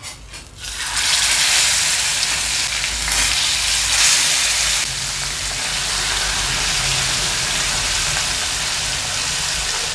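Banana-leaf-wrapped fish frying in hot oil, a loud continuous sizzle that bursts in as the fish goes into the pan and then holds steady and bright to the end.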